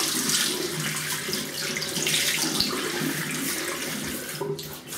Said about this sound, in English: Okay, let me wet the face.